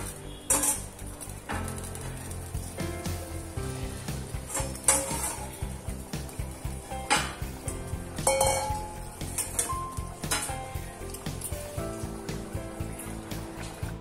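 Katla fish curry with fresh coriander leaves is stirred in a pot, a busy run of metallic scrapes and light clinks from the spoon against the metal, close and continuous throughout.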